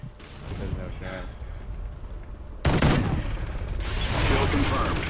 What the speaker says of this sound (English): that was our own sentry gun